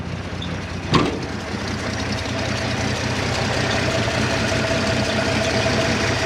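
A 1953 GMC truck engine idles steadily once the choke is taken off, a close, even low rumble after a brief bump at the start, with no talk over it.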